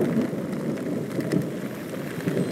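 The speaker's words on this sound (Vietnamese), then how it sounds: "mưa rất là lớn luôn á" Heavy rain pouring down in a thunderstorm in the Phu My Hung area of Saigon, a dense, continuous roar of downpour on surfaces with a low rumble beneath, steady and fairly loud with no voices.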